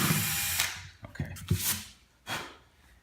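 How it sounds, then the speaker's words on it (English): Power drill boring into ABS plastic during assembly of a prop SMG replica, a loud whirring burst at the start, then short stop-start pulses of the motor revving and biting into the plastic, close up with no speech. "Just drill."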